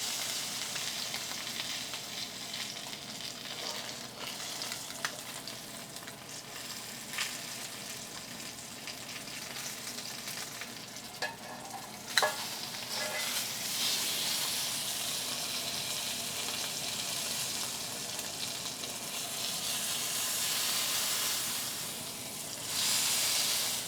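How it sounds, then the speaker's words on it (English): Steak edges sear in a Staub pan with a continuous, close frying sizzle and hiss, a few brief clinks and shifts breaking in along the way, and no voices. "we're going to finish it off by searing the edges."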